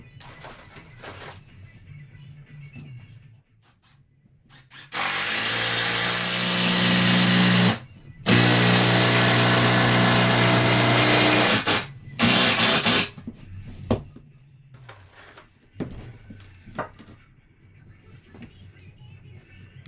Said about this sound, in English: I'll go in first with a pilot bit, a little bit smaller than the screws to help it go in